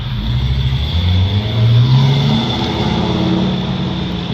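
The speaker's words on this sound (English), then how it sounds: "there is a hell of a lot of traffic out here today" Heavy road traffic rolls by, with a car engine rising and falling as it passes nearby over a continuous background hum of moving vehicles.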